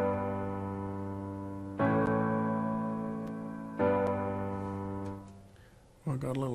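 Cubase 8.5 chord track plays back sustained synthesized chords in three distinct blocks, each struck and held before the next change, with slight glitchy artifacts near the end and no talking.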